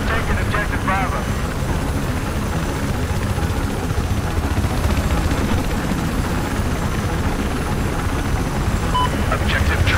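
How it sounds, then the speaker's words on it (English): A helicopter in the video game Battlefield drones steadily and loudly through the whole stretch, a continuous rotor and engine roar with a voice talking over it at times. "That helicopter will spawn and I will be the pilot."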